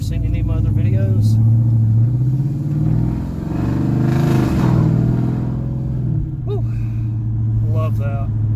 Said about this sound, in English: long tubes and catless mids definitely woke this car up, guys. It is so loud now compared to how it was previously set up.